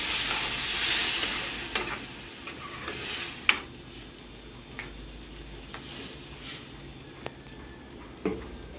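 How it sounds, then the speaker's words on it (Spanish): Chicken broth and tomato poured into rice frying in a pan give off a steady close sizzle and hiss, broken by a few sharp clinks and stirring sounds. "Ya está nuestro arroz, vamos a vaciarle el jitomate. Y le vamos a poner caldo de pollo también"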